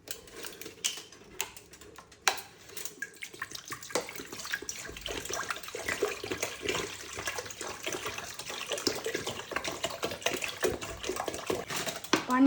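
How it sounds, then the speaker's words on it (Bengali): Water is poured into a cooking pot for steaming vapa pitha, a splashing, uneven stream that starts sparse and thickens into steady pouring, heard close and alone. "আমি পাতিলে পানি দিয়ে নিচ্ছি।"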